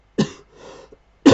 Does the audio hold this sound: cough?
yes